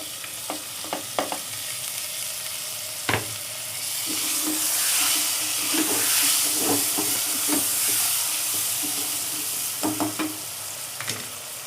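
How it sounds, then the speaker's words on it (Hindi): Turnip with green chilies and tomatoes fries in a pan, making a steady hiss that swells mid-way as the tomatoes go in, broken by repeated spoon clinks and stirring scrapes against the pan. "और हल्का सा हम इसे भूनेंगे। और ये टमाटर भी शामिल कर दूंगी इसमें मैं, हरी मिर्चें और टमाटर।"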